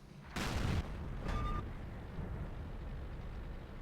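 Tank cannon fire in the World of Tanks video game: a loud booming shot followed by a second, shorter blast, then a low rumbling tail of battlefield ambience.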